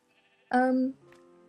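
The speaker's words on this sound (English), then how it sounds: "Killed a sheep and a pig." A single loud bleat from a sheep in the Minecraft video game, lasting about half a second. A faint lower tone lingers afterward, and the clip is otherwise nearly silent.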